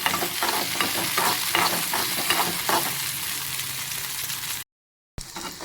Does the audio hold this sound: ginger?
yes